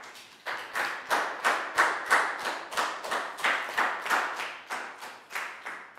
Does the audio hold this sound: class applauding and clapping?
yes